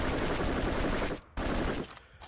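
Rapid automatic gunfire in the VR shooter X8 rattles out in a dense stream for about a second, pauses briefly, then resumes in a shorter burst before tailing off.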